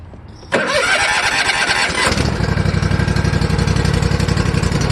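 Kawasaki FR651V small engine cranks briefly, catches with a sudden loud burst, revs high for a couple of seconds and then settles into a steady, throbbing idle, recorded up close with no talk.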